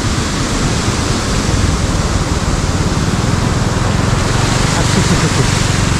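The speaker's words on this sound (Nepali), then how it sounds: "यत्रो ठुलो खोला छ ठुलो खोला पानी बबाल आइरहेको छ" A big mountain river in Solukhumbu, Nepal, its rushing water a loud, dense, unbroken roar close by, with no clear gaps throughout.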